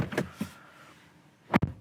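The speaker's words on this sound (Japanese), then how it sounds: "でドア閉めた音" A new Toyota Crown Sedan hybrid's door swings shut from inside the cabin with a solid, muffled double thud near the end, after a few softer rustles and bumps.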